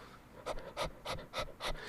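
A voice imitates the quick, shallow panting of very young puppies, a rhythm of about five breathy huffs close to the microphone with short gaps between them.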